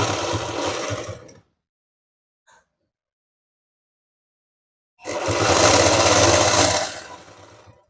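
A sewing machine stitches the zipper entrance of a cosmetic pouch in two loud bursts, about a second of steady whirring at the start, then a few seconds of silence before a longer run that fades out near the end.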